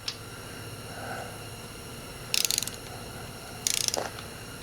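A hand ratchet clicks in two short bursts while snugging bolts on the oil pump of a 1972 VW Super Beetle during installation, the fast metallic clicks close and crisp over a quiet workshop background.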